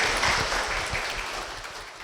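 Church congregation applauding to welcome the pastor's wife, a brief, steady wash of clapping from many hands with no break, fading slightly toward the end.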